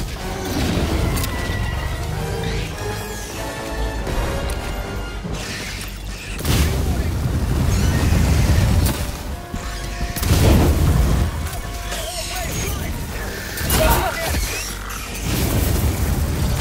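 Orbital strike explosions in Helldivers 2 on a level 9 bug mission: a dense, loud run of heavy booms and crashing blasts that surge repeatedly over continuous battle noise.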